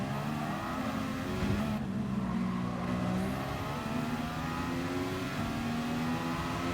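A Formula 1 car engine in Gran Turismo Sport drones continuously at high pitch, shifting tone as it accelerates, with a steady whine and no voices.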